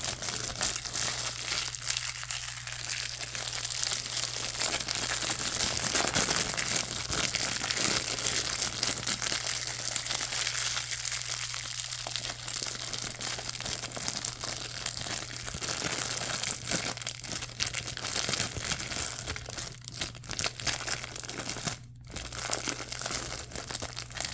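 Shiny found material, crinkly and fleshy-looking when balled up, is crumpled close up in a continuous, dense crackle that swells and eases over time, with no talking.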